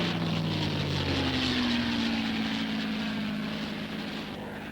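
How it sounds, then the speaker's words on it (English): Propeller engines of P-51 fighter aircraft drone loudly and steadily, a pitch sliding as the planes pass low on strafing runs, continuous throughout with no voices. "the P-51s dropped down for strafing runs, concentrating on definite objectives from here to the enemy coast"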